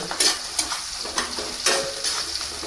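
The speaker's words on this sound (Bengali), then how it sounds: "দেখতে পাচ্ছেন এখন পেঁয়াজগুলো দিয়ে দেওয়া হচ্ছে গরম তেলের মধ্যে দেখেন প্রথমে ভেজে নিচ্ছে পেঁয়াজগুলো জিরে আর তেজপাতাও তার সাথে ভেজে নেওয়া হচ্ছে" Onions, cumin and bay leaves frying in hot oil for a mutton curry, a close hissing sizzle with repeated stirring scrapes in an irregular rhythm.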